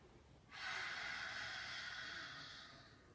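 A single deep, drawn-out exhale during a breathing exercise, a soft breathy rush that starts abruptly and fades slowly over a few seconds, close and quiet.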